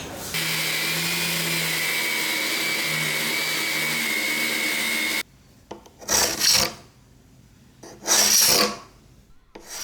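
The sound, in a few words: sanding a glued wooden joint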